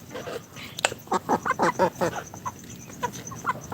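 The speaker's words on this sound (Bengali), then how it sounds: "আমি এইমাত্র চলে এসেছি পাকিস্তানি মুরগির খামারে" Pakistani-breed chickens at a poultry farm cluck close by in a quick run of short, rhythmic bursts. A few scattered calls trail off after them, and faint voices sit in the background.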